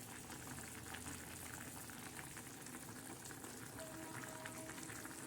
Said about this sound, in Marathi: तर आता डाळ बी शिजत आहे